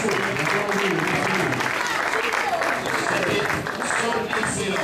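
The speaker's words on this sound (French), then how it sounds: "on peut applaudir très fort pour monsieur l'ambassadeur." Applause for an ambassador at a gathering before a concert, steady dense clapping from a crowd lasting throughout without a break.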